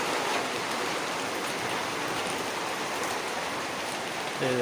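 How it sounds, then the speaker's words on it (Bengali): Water falls steadily onto a bed indoors in a continuous, close, rain-like patter and hiss that never lets up. "এই যে জল পড়েই যাচ্ছে"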